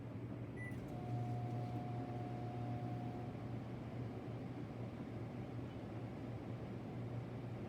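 A microwave oven hums steadily at a low level, a constant drone with faint rattling and no voices.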